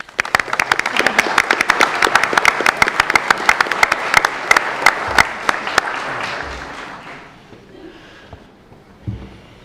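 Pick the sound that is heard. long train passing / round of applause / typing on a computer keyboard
round of applause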